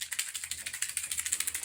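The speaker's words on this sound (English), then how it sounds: "this is a shamanic rattle from the Navajo tribe, and it actually sounds like this" A Navajo shamanic rattle shaken in a quick, steady rhythm, producing bright, dry clattering bursts, close and fairly quiet, with no voices.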